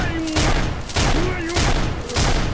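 Repeated bursts of gunfire in S.T.A.L.K.E.R. Shadow of Chernobyl, about three loud volleys spaced roughly half a second to a second apart, dense and close, with a voice briefly over the shots.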